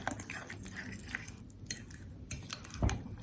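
A spoon mixes guacamole dressed with extra virgin olive oil in a bowl, giving soft scraping, squishing and light clinks, with a louder knock near the end; nobody speaks.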